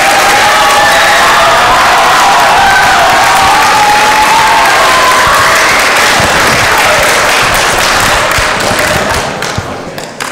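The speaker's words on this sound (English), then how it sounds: "know you don't normally applaud pastors, but let's thank Pastor Baldwin for being here at midnight." A midnight chapel audience in a church applauds, a dense sustained clapping wash with some thumps and cheers that tapers off near the end.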